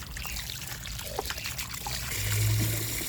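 Water draining from pressed wild yam (kloi), a steady close trickle and dribble of liquid with a few soft knocks, swelling slightly louder toward the end.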